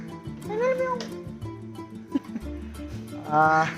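A cat meows a few times nearby, drawn-out rising cries between quieter moments, with background hum and a voice speaking softly.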